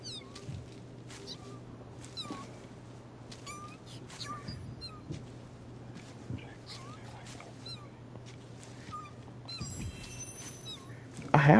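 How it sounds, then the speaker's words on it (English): A small owl in the video game Throne and Liberty gives repeated thin, cat-like crying calls in short bursts amid steady game ambience, while a player talks over it at intervals. "I thought that was a little cat. It wasn't a cat, it was a little owl."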